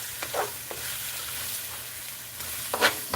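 Rice frying in a pan gives a steady low sizzle with a few soft scraping stir sounds near the start and a sharper scrape near the end, with no talking.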